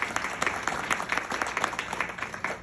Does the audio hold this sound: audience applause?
yes